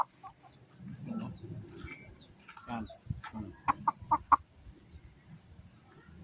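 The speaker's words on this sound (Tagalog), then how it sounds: "Tumitilawak na po itong ating ating manok na to." A rooster in a yard gives a short series of sharp crows and clucks in quick succession, fairly close, over low background shuffling with a brief word spoken.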